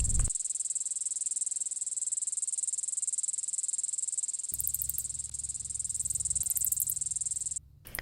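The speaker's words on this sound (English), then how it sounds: "The loud sound coming from the trees is from male cicadas." Male cicadas in oak trees on a preserve ridge hold a loud, steady high-pitched drone throughout, joined midway by a low rumbling background and briefly cut off near the end.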